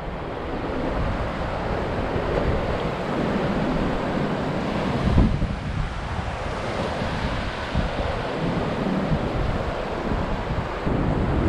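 Ocean surf and wind at the Atlantic City pier, a steady broadband wash of breaking waves with gusty wind noise on the microphone, one louder surge around the middle, no talking.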